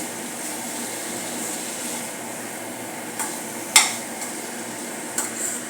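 Drumsticks and potato being mixed in a pan, a quiet background hiss with a few sharp metallic clinks of a spoon against the pan near the end.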